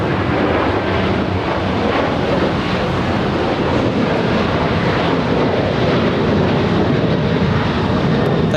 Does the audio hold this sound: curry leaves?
no